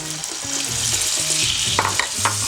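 Brown sugar, salt and fresh lemon juice get stirred into a liquid in a cooking pot, a continuous close swishing with light sizzle-like texture and a few soft spoon knocks near the end.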